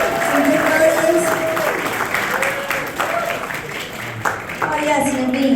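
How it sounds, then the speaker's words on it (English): Applause from an audience at a San Antonio Indian Nursing Association fundraiser, steady clapping under a loud announcer's voice that carries through most of the stretch. "Let's get a round of applause and some good verses"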